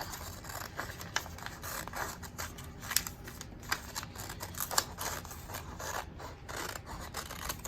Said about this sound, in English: And then you can fold that crease over and cut that extra piece of paper off.